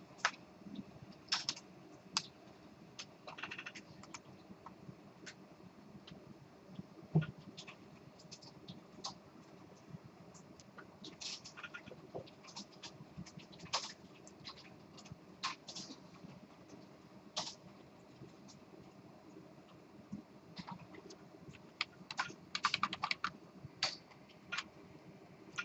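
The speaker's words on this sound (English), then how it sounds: "I don't feel like typing all that in again" Steady typing on a computer keyboard during a classroom lecture, a continuous patter of close key clicks with occasional louder strikes and short pauses, alone without talk over roughly twenty-five seconds.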